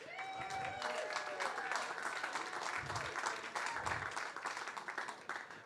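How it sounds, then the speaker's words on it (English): A startup demo day audience applauds, a dense continuous wash of clapping at moderate level with a few low thumps underneath, cheering mixed in. "let's get a round of applause"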